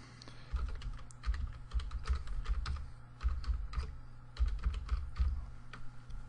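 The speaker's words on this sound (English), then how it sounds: "my typing skills are awful." Rapid, uneven clatter of keys on a computer keyboard, typed in short bursts with brief pauses, close and clear over a low steady hum.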